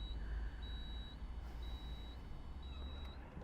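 A deployable tow bar on a new Land Rover Defender 90 D300 gives three evenly spaced, high electronic beeps over a faint mechanical whir and low background rumble, heard quietly and with no talking.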